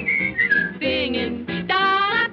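Someone whistles a cheerful melody, bright sustained notes in short phrases with brief pauses between them.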